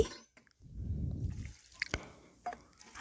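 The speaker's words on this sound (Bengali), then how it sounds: "এখানে আমি দেড় বাটি জল দিয়ে দিচ্ছি" Water poured into a pan of tomato fish curry: a short, soft splashing pour lasting about a second, followed by a few faint clicks and drips close by.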